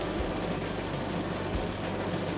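Steady rain from an outer band of Hurricane Francine, a dense continuous hiss with low rumble, unbroken and fairly loud throughout, no voices.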